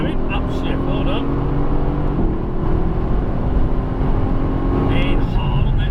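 A Mercedes-Benz AMG GT S accelerates on a race track, its engine droning loud and steady with rising tone and an upshift, heard from inside the car while an instructor talks over it.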